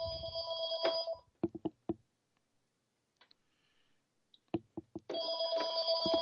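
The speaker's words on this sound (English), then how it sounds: "I apologize for the phone ringing." A landline telephone rings in two loud electronic bursts at the start and end, separated by a quiet stretch of sharp clicks and taps nearby.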